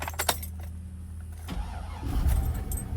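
An old LS-swapped project truck engine cranks and fires up, a short starter whir and then a low, steady idle that grows louder close by, with a faint jangle of keys at the start.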